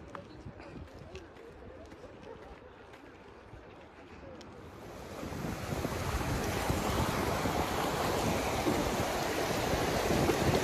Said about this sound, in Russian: Слышу где-то звуки воды, должен быть водопад рядом.